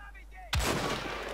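A single sharp gunshot in Wolfenstein: The Old Blood, a sudden loud crack after quiet game ambience, followed by a long rumbling decay.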